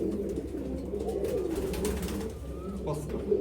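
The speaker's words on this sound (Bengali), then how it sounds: "কবুতরটা অনেক সুন্দর হয়েছে" A pigeon coos softly nearby, its low murmuring calls repeating over a quiet background with some faint talk.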